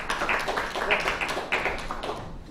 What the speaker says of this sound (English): deserved round of applause there